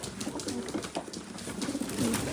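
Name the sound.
pigeons cooing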